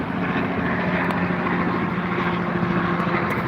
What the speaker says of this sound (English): This is the third helicopter in like 15 minutes.